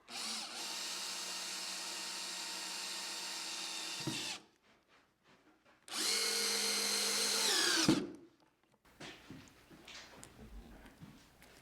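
A power drill drives screws into the outer stem of a wooden Caledonia yawl under construction, two sustained whirring bursts of about four and two seconds separated by quiet, followed by faint handling noises.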